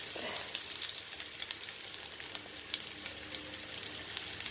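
Small onions frying with mustard seeds in hot oil, a soft continuous sizzle with faint crackles and pops spread through, steady and fairly quiet, with no voices.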